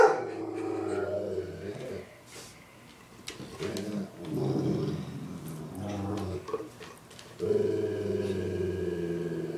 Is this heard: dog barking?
yes